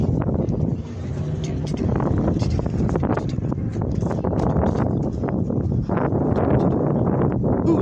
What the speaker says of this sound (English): Ooh, it's windy back here.